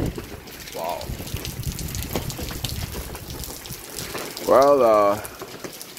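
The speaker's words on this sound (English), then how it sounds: "Look at that rain, look at that rain, look at that rain once again." Steady rain falls on an outdoor surface as a continuous wash of hiss, with a person talking over it and a brief high, wavering tone partway through.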